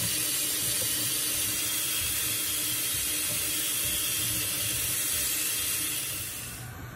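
Tap water runs steadily through a strainer as tri-color quinoa is rinsed, a continuous close hissing splash that fades slightly at the very end, with no talk over it.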